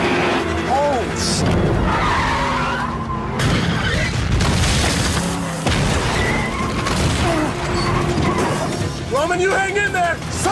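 A tank chasing cars on a road in a Fast & Furious 6 scene, with loud rumbling engines, screeching tires, crashes and booms layered with shouted dialogue throughout.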